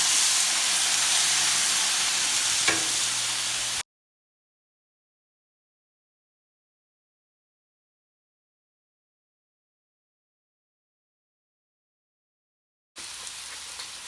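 Potatoes frying in a pan give a steady hiss, close and even, that cuts to silence partway through and then returns near the end, with no talking.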